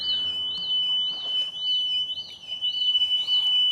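A Hovara P501 pool alarm wails in a repeating up-and-down siren pattern, steady and fairly close, with a constant high tone beneath it.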